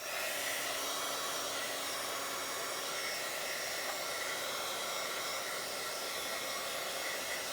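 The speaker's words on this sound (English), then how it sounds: "let's get my dryer and we'll dry this" A hair dryer blowing to dry paint on a handmade boho craft tag, a steady, loud, close whooshing roar that holds unbroken from start to finish with no talk over it.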